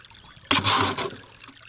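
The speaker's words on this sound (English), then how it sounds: "I have channeled the entire creek through my sluice." Creek water channeled through a gold sluice at a low-water placer gravel dig, a sudden gush of splashing, rushing water lasting under a second before settling back to a soft trickle, close by, with no talk.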